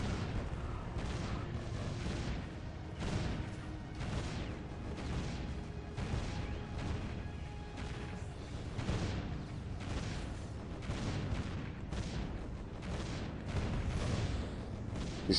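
Cannon towers in the tower-defense game Defense Grid fire a dense barrage of booming shots, rapid, overlapping and rumbling, continuing without pause from start to finish at a fairly low level.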